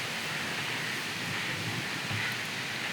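Wind rushes steadily through a neem tree before rain, a loud broadband roar of moving leaves with no let-up and no voices.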